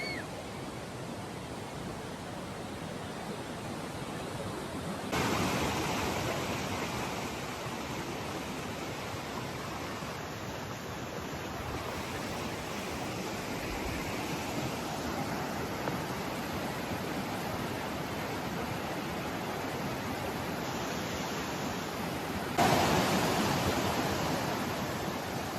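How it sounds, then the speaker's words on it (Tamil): Fast, rushing water at the Chaparai cascade in Araku Valley, Andhra Pradesh, making a loud, continuous broadband roar that fills the whole recording, with no talking. "பயங்கர வேகமாக போகுது தண்ணி"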